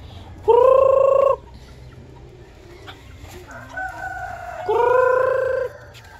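Bantam chickens call out in two loud, harmonic bursts near the start and end, with quieter clucks and rustling between, no talking.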